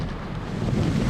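Typhoon winds gust across Hung Hom Pier, a dense, low, rumbling roar of air battering the microphone for a brief continuous moment.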